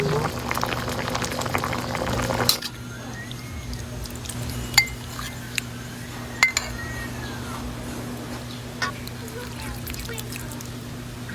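Corned beef sinigang with kangkong simmering in a pot, a steady close bubbling and hiss with a few sharp clinks of a utensil against the pot, and some voice in the background.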